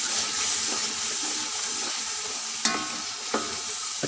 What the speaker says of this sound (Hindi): अब इसको अच्छी तरह से मिक्स करेंगे।